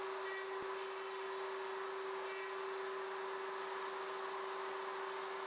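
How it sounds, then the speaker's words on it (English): Router cutting box joint sockets in boards on a Leigh RTJ400 jig, a steady high-pitched whine with airy hiss held constant throughout, loud and close with no talk. "Complete the socket boards by routing them in reverse order"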